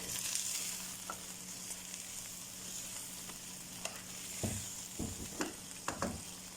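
Chicken sizzling in a pan on high flame while being mixed, a quiet continuous frying hiss with a few scattered scraping knocks of the spoon toward the end.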